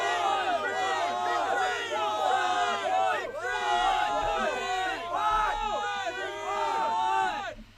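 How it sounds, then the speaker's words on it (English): A loud crowd on a trivia game show roars and yells continuously for several seconds, a dense mass of overlapping voices that drops away at the end. "After the crowd noise,"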